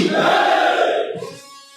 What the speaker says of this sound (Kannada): ಒಂದ್ಸತಿ ಜೋರಾಗಿ ತಾಯಿ ಭಾರತ್ ಮಾತೆ ಜೈಕಾರ ಹೋಗೋಣ